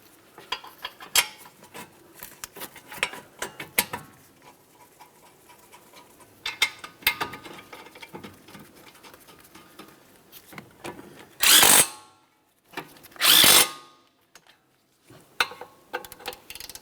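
Bolts on a caliper bracket of a 2003-2007 Honda Accord front hub are run in and tightened with a ratchet, giving scattered metallic clicks and tool rattles, with two loud sustained bursts near the end.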